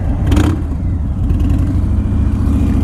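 A 2018 Harley-Davidson Road King motorcycle engine rumbles steadily up close, with a brief rev surge near the start over a constant deep, throbbing exhaust note and no talking.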